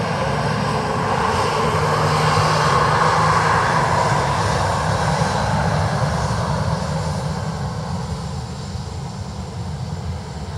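A jet airliner at Dublin Airport roars loudly and continuously, a broad steady engine rush that slowly fades toward the end with no voices.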